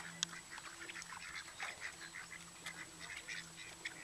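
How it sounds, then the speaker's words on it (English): Ducks quack and geese honk intermittently at moderate distance while being fed at an outdoor table, with scattered chirps from other birds and steady ambient background noise. "I want to feed the ducks, not the pigeons."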